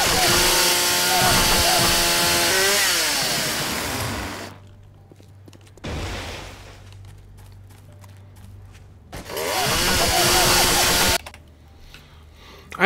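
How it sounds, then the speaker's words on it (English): A chainsaw cuts trees in the video game 7 Days to Die, a loud, harsh, buzzing roar in two long bursts with a quieter idle rumble between them. "I got my chainsaw."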